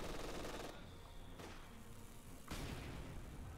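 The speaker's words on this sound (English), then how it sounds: "Field gun barrage against the Pak 40." Field gun barrage against a Pak 40 anti-tank gun in a World War II strategy video game, heard as dense continuous rumbling gunfire with a few sharper booming impacts, loud and steady throughout, with no voices.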